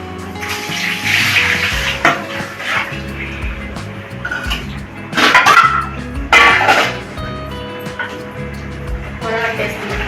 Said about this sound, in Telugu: దీంట్లో అయితే వడగట్టేద్దాం